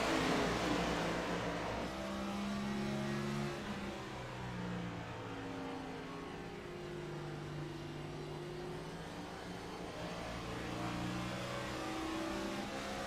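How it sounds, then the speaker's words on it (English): On-board engine of a Ford Mustang race car at Richmond Raceway, revving and rolling on and off the throttle with rising and falling tones, steady and moderately loud throughout with no talk. "Listen to that throttle control and modulation as he rolls off the throttle here"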